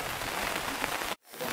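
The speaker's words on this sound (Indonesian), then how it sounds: "Hujan guys." Rain falls steadily on a forest riverside campsite, a dense, even hiss of drops that cuts out abruptly for a moment near the end before returning.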